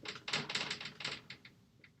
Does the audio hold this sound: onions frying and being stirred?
no